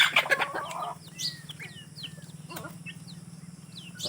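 Hens clucking at a home hen farm at feeding time, with several birds giving short clucks and chirps that overlap near and far, over a steady low hum, with a louder burst of calls at the start.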